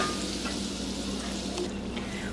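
Butter melting in a pot over medium-low heat, giving a soft, steady close sizzle with faint crackle and no talk.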